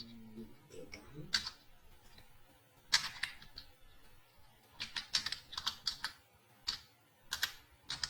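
Keys clatter on a computer keyboard as an email address is typed during Facebook account setup, with quick irregular bursts of clicks separated by short pauses, close and fairly quiet.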